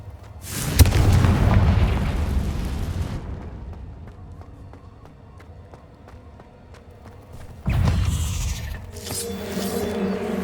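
Confringo blasting spell from a Hogwarts video game, two heavy booming explosions with rumbling decay, the first long and loud, the second arriving after a quieter stretch of faint background.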